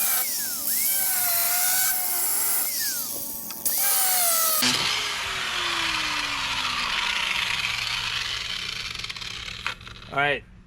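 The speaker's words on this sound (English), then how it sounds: "Alright, angle grinder it is." An angle grinder cuts through rusty metal on a 1959 Plymouth, giving a loud, steady high-pitched whine that rises and falls as the disc bites, with a short clattering burst near the end and no talk.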